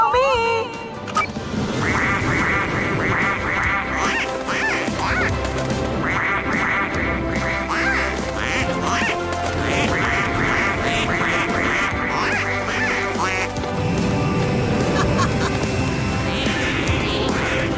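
Cartoon ducks quack over and over in loud bursts, set against busy animated music and effects, with a character talking in between.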